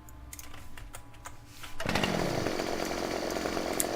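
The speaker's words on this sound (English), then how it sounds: "I'm assuming that these trees can actually be cut down just by a chainsaw." A chainsaw in the video game Farming Simulator 2015 roars to life after a quiet moment and keeps buzzing steadily at close range for the rest of the clip, cutting trees.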